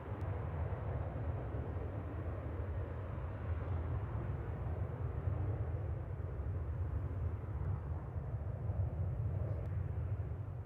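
A Ryanair jet lands at Manchester Airport, a steady, broad, distant roar of engines and rushing air that holds at an even level for the whole stretch, with no talking.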